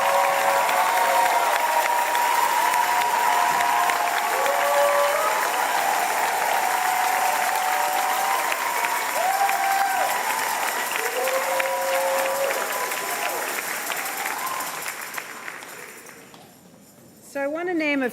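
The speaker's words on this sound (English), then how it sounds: "please stand so we can give you a proper round of applause" Sustained audience applause at the Columbia University School of the Arts 2025 convocation, a dense, loud wash of clapping from a large crowd that fades away near the end.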